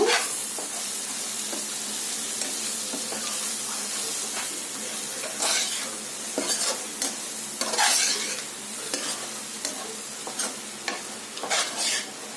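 Stirring of boti (goat tripe) curry in a pan as washed coriander and mint are mixed in, with a steady sizzle and intermittent scraping spoon strokes against the pan, close and clear with no talk.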